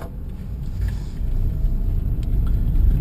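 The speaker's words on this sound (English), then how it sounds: "Now let's go for a little test drive around the building." A car on a test drive around a building, heard from inside as a steady low engine and road rumble that swells slightly louder as it moves along, with no talking.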